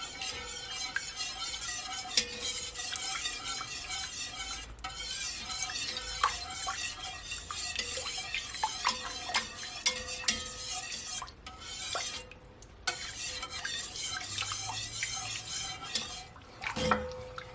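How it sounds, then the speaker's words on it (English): A whisk beating a batter for a Jamaican Easter spice bun, a steady metallic clatter against the bowl that runs continuously with brief pauses, close and fairly loud. "Just gonna use a whisk"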